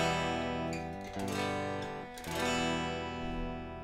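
Electric guitar strumming chords, monitored through an audio interface into recording software and back out, sustained and fairly loud with a couple of fresh strums, no talking.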